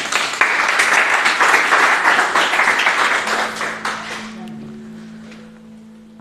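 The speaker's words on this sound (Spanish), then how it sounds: "Demos un aplauso al Señor." A church congregation claps loudly for several seconds. The applause fades out as sustained keyboard chords come in.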